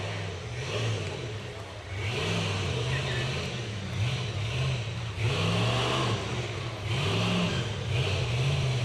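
An unlimited-class race car launching off the start line at a hill climb, its engine revving in repeated rising pulls over a steady roar, heard amid crowd and announcer talk.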